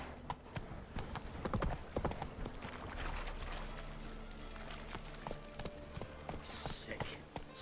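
Horse Roach's hooves clip-clop steadily at a gallop through The Witcher 3, a dense rhythmic patter under ambient game sound, with a voice speaking briefly over it.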